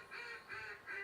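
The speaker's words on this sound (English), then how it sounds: "you need to use the Greek call instead of the feed call." A greeting duck call from a duck hunting video game gives three evenly spaced nasal quacks, loud and close, with nothing else behind them.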